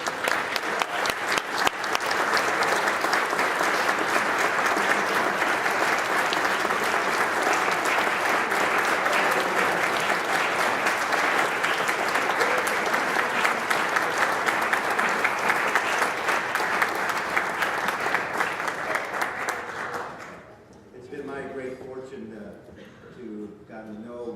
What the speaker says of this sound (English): let's give them a cheerful round of applause.